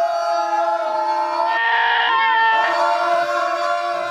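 Several people imitate goats together in a loud, sustained chorus of wavering, nasal bleats, voices overlapping and quivering for several seconds before a stage show.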